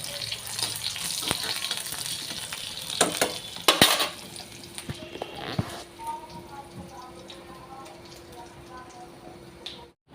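Garlic frying in a pan makes a soft crackling sizzle, with a few sharp clinks of a spoon against the pan while it is stirred and a voice talking over it.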